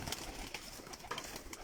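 Teddy pigeons kept for sale coo faintly and intermittently through a noisy, rustling background, with a few brief louder calls scattered across the short stretch.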